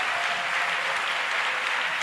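A congregation in church applauds in acclamation of Jesus Christ, a thick, continuous roar of clapping from many people at steady loudness across the whole stretch.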